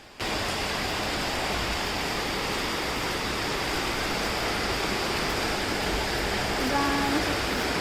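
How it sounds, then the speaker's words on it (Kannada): Rainwater running in front of a house during rain, heard as a steady, broadband rushing wash, loud and unbroken from start to finish after a brief quiet opening. "ಮಳೆ ಬರ್ತಿತ್ತು, ಮನೆ ಮುಂದೆ ನೀರು ಹೋಗ್ತಿತ್ತಲ್ವ"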